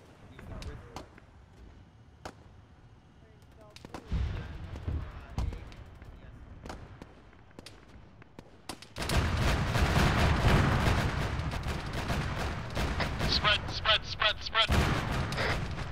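Sharp booms and gunshot-like impacts in a video game, scattered at first, then a loud dense barrage of firing and explosions.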